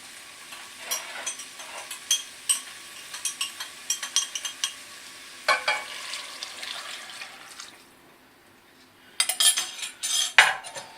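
Kitchen clatter while vegetable stock goes into a pan of red pepper and sweet potato soup: repeated light metallic clinks and scrapes of stirring, brief liquid splashing, a short quiet gap, then a louder burst of clatter near the end.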